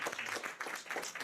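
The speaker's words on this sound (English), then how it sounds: "Let's give him another hand of applause." Audience applause at a school board meeting, a short burst of many hands clapping at moderate volume with no talk over it.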